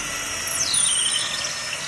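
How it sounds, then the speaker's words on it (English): Electric drill with a 1/8 inch bit boring a hole through a wooden board into the sheetrock behind it, a high, steady whining squeal that bends in pitch, fairly quiet and continuous. "I drill a hole through the piece of wood into the"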